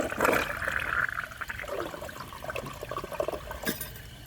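Water trickles and rushes quietly into the tank of a 1998 Eljer Savoy toilet, a soft, uneven refill sound heard alone with nothing else over it.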